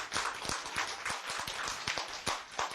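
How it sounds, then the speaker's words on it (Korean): An audience claps in a lecture hall, a fairly faint, uneven patter of hand claps running throughout. "박수."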